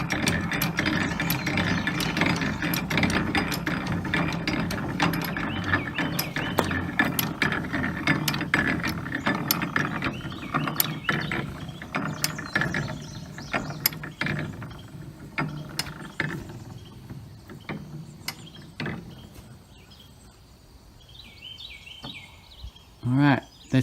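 An old hand crank drill is turned steadily, its gears producing a dense, continuous ratcheting and whirring clatter up close that gradually thins into scattered clicks and then stops near the end.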